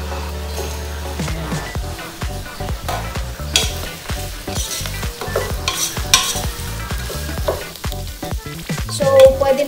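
Canned young corn tumbles into a frying pan of ground beef and shiitake mushrooms, followed by steady sizzling and repeated stirring scrapes, close and moderately loud with no talking.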